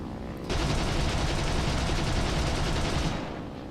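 7.92 mm machine guns fire in War Thunder, a loud, close burst of rapid rattling shots at a high, even rate lasting about two and a half seconds before stopping, over a constant background drone.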